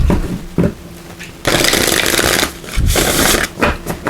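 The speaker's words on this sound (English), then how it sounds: "Give these a good shuffle." A deck of oracle cards is shuffled vigorously in repeated bursts, the dense riffling swelling and pausing close by, with no one speaking.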